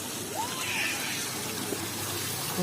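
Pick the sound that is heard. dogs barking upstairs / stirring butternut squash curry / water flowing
water flowing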